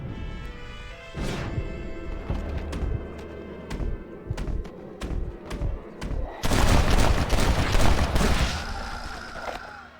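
Gunshots crack in Red Dead Redemption, first single sharp shots spaced a second or so apart, then a dense, loud burst of rapid fire with crashing impacts toward the end.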